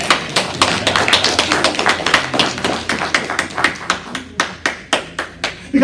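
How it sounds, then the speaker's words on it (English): Rhythmic hand clapping during a church sermon: a few close, loud claps repeated in a steady beat, starting dense and thinning to sharper, more separate claps near the end. "I'll clap."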